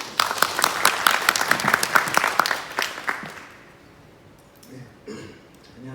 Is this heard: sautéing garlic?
no